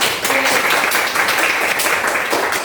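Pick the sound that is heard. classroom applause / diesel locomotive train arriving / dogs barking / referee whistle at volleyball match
classroom applause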